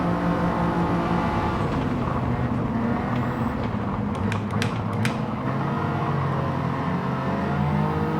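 A race car in the Gran Turismo 7 racing game slows under braking from around 150, its engine note a steady loud drone with a few sharp high squeals of tyres over the whole stretch.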